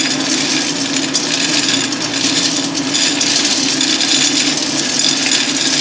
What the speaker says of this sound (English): So basically, as this turns, the grate moves back and forth.